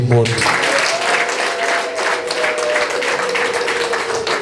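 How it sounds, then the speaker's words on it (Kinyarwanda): An audience at a Rwandan dowry-giving wedding ceremony claps steadily, a dense, sustained round of applause with a voice continuing faintly over it. "dukoma amashyi"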